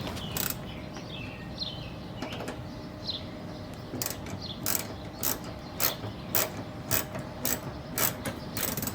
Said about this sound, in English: Now to screw in the side screws.